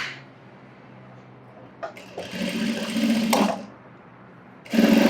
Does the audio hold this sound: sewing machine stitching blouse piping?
yes